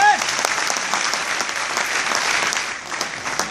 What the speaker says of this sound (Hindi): जोरदार तालियों से हम न्यूट्री चार्ज टीम का आभार प्रकट करते हैं